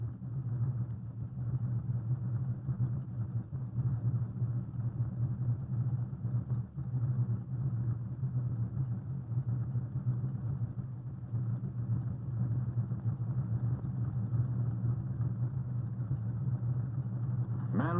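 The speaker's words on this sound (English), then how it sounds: "a fleet of mixer trucks which moves down the forms" A fleet of concrete mixer trucks moving down the forms on an open-air paving line lays a continuous low engine rumble, muffled and steady for the whole stretch, with no voices.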